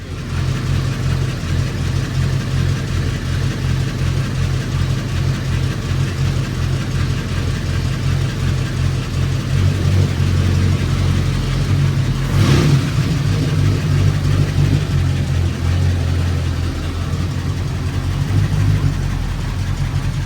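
Engine of a 1934 Ford Coupe running steadily, a loud continuous rumbling idle with a slight rise in revs partway through, close up and with no talk over it.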